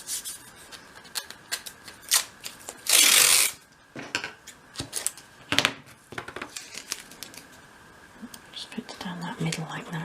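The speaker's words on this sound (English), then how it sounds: "I'm now going to put my first piece of masking tape right over that side" Masking tape is pulled and pressed onto a 1/12th scale model shop, giving soft rubbing and crinkling sounds and one brief loud tearing rip, while a person speaks quietly nearby.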